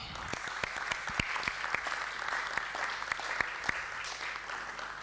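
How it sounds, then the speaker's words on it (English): Crowd at an official youth policy launch event applauding a team, sustained even clapping with occasional sharper claps standing out, heard from a moderate distance for about five seconds. "please, a round of applause for the team"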